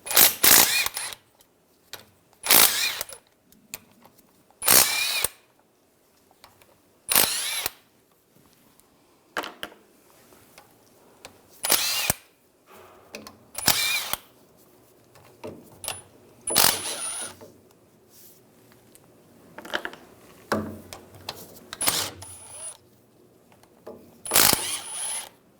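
A ratchet with a 13mm socket backs out the axle cover bolts on a 2011-2018 Ram 1500 rear axle, making repeated sharp metallic clicking bursts separated by short pauses, close and loud, with no talking.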